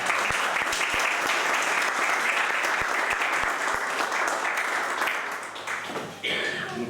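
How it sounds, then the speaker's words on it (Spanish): A lecture-hall audience at a political debate gives a speaker a sustained round of applause, dense and steady with a few sharp individual claps, fading slightly near the end as a voice begins. "Un aplauso para Agustín."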